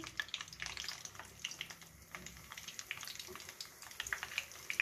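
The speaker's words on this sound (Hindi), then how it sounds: "ऑयल गरम है, ये मैं इसमें डाल दूंगी" Flour-coated chicken wings dropped into hot oil for deep frying, giving a soft, steady crackling sizzle with scattered pops, fairly quiet and close, with no voices.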